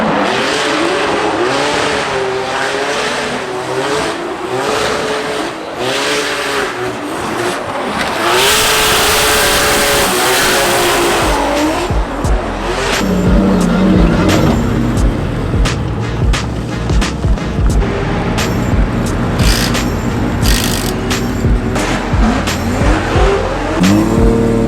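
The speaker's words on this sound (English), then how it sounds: "going up against Andy Haley in the E46 for a little BMW on BMW action" Two BMW drift cars, one an E46, battle at a Formula Drift event, with loud, continuous engine revving and long wailing tire squeal that rise and fall as the cars slide, heard without talk.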